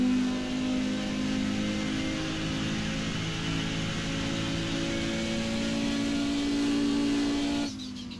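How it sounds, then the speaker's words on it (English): An Audi 90 race car in a racing video game, engine held at a steady high-rev drone as it's thrown flat out through Eau Rouge, loud and continuous with no voices, ending in a brief shift or cut near the end. "Simply throw the car through Eau Rouge."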